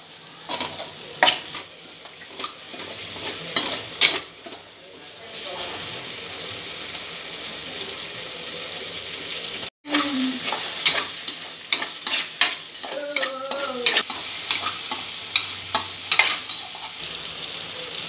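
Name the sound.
sautéing tomatoes with curry masala in a pan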